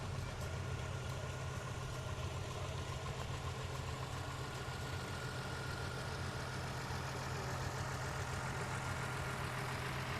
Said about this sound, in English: Got a nice Farmall diesel, an 806.